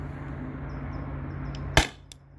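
A Grimburg Jul V3 marker on high-pressure air fires Alien Play rounds: one sharp, loud crack stands alone, followed by a faint second tick, against a quiet hiss.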